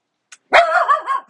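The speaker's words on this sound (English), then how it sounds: "he might bark at the passersby or something else" A single dog barks near the listener, one short sharp yelp followed by a drawn-out, wavering bark-whine against an otherwise silent room.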